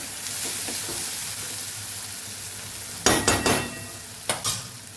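Onions stirred and frying in a pan for a Kathiyawadi onion-tomato curry, a steady soft sizzle broken by a few loud clattering scrapes of a spoon against the pan near the end.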